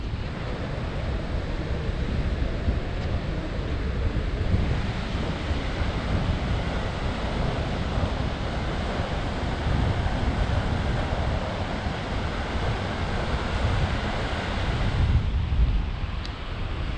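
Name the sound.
sea waves on Fatrade beach, Goa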